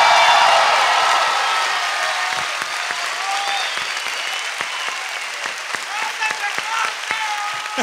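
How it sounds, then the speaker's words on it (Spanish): Large comedy show audience in Guadalajara applauding, a dense loud roar of clapping and cheering that slowly thins into scattered individual claps, with some voices mixed in. "¡Fuerte el aplauso para él!"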